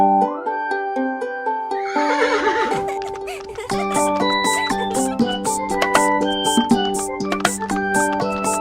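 A horse neighs loudly over cheerful children's rhyme music, its whinny rising and wavering near the start before the melody carries on alone.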